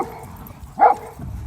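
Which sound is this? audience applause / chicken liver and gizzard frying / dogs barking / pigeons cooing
dogs barking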